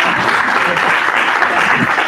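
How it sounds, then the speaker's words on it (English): Staff at a school district strategic planning meeting applauding themselves, a steady, dense wash of clapping throughout. "Give yourselves a round of applause"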